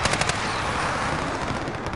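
Rapid MAC-10 gunfire in a video game rattles in a dense, loud burst of fast shots that runs without a break for about two seconds.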